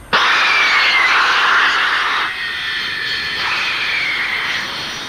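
Engines of an English Electric Canberra jet bomber, Britain's first jet-powered bomber, roar loudly and steadily with a high whine that rises and falls in pitch, heard alone without talk.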